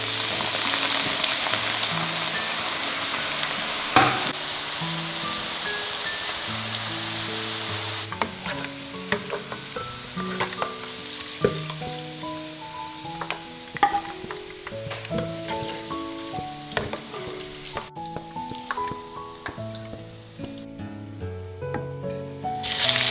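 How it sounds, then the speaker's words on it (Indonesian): Oil sizzles steadily as onions fry for meatballs, a soft hiss running under louder background music with changing melodic notes throughout. "Menggoreng bawang ini teman-teman cukup dia nguning"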